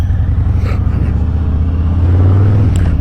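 A Harley-Davidson Breakout 114 motorcycle fitted with a Jekyll & Hyde exhaust accelerating in second gear, a loud, close, deep rumbling engine note that swells steadily with no talk over it.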